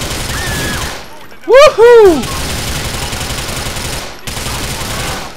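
Automatic gunfire in the video game Grand Theft Auto IV rattles steadily at close range under an excited voice that whoops briefly.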